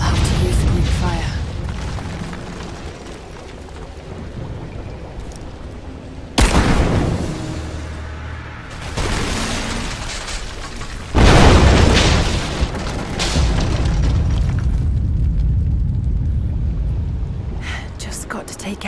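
Greek fire explosions in the Tomb Raider video game, with heavy booming blasts near 6 seconds and again near 11 seconds that rumble with debris, set amid ongoing game noise and a speaking voice.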